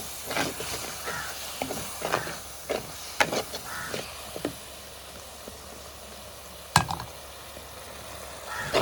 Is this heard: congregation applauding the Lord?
no